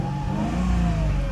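A car with a stock exhaust and a check engine light for an air leak revs steadily. The rev is close and even, with its pitch rising slightly, and it is heard alone.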